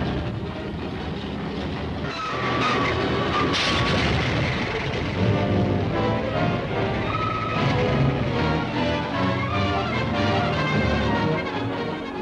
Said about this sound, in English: Every available plane was sent into action.